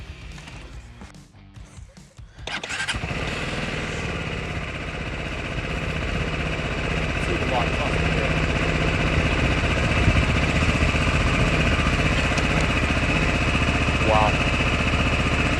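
A Lexmoto LXS motorcycle engine cranks and fires up, then settles into a steady, loud idle that runs on continuously close by, with a single brief exclamation from a person near the start.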